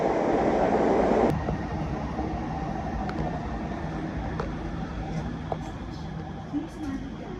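An electric train in the Nonthaburi–Pathum Thani area near Bangkok rumbles along from inside a carriage, a loud surge at first settling into an even, droning ride with faint background voices.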